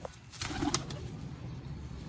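A pigeon coos softly once or twice against quiet outdoor background, with a faint flutter nearby.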